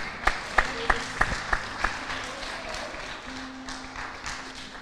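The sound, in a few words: applause in a church class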